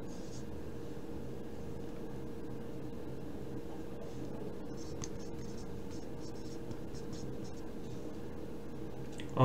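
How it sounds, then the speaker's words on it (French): Handwriting of words, a soft continuous scratching of a pen on paper, faint and steady over a low background hum with no talking. "je vais écrire déjà les mots"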